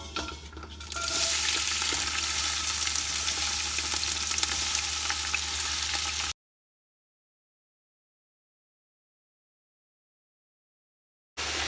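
Peppers fry in a little vegetable oil for menemen with a dense, loud, close sizzle for about six seconds, then go completely silent before the sizzle briefly returns at the very end.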